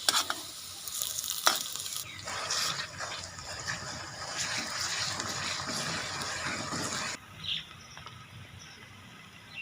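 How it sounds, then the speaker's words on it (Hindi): Ginger-garlic paste hits onions frying in ghee in a pan for Punjabi kadhi pakora. There is a sharp clink near the start, then a busy sizzle with stirring scrapes that drops to a softer hiss near the end. "इसमें अब अदरक और लहसुन का पेस्ट शामिल करेंगे।"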